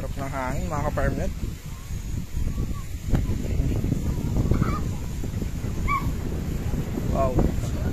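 Wind gusts across an open beach lot, a continuous low rumble buffeting the microphone. A voice speaks briefly near the start, and faint bird calls sound now and then.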